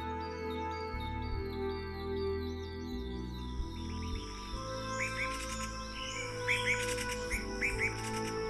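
Birds chirp in quick, high tweets in a southwestern Guangxi rainforest, over a steady bed of layered background noise, the calls scattered and moderately loud.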